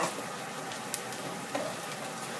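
Paprika and shallots stir-fry in hot oil for coconut noodles, giving a dense, steady close sizzle with a couple of faint utensil taps.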